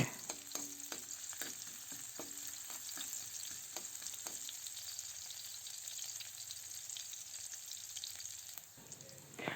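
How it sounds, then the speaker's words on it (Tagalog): Garlic and onion sauté in a hot pan with a steady, soft sizzle, broken early on by a few light clicks and stirs of a utensil, fairly close and without talk. "Ayan, lutuin lang natin ang bawang at sibuyas."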